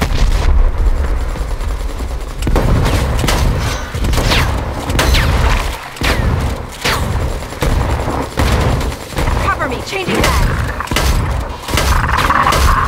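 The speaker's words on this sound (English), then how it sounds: "Flashbang out!" Explosions and gunfire in the Predator: Hunting Grounds video game, including a flashbang grenade going off, make a dense, loud run of blasts and bursts that keep going with almost no break.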